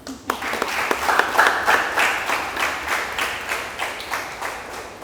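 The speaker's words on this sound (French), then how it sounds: "Applaudissez pour vous-même." An audience at an exchange session with scholarship holders bursts into dense, steady clapping that holds at full strength for the whole stretch, with scattered louder claps standing out near the front.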